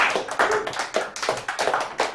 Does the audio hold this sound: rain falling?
no